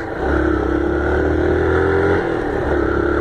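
A Yamaha Factor motorcycle engine accelerates steadily on a park road in Campo Grande, a loud, close buzzing drone that rises in pitch and then eases off.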